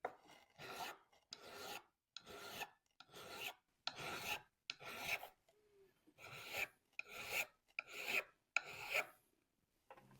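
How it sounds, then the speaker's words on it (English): A hand file rasps on veneer at the top of a wooden Stanley plane tote in close, even strokes, about a dozen in all with short pauses between them, heard alone in a quiet room. "I'm going to finish this off with a file"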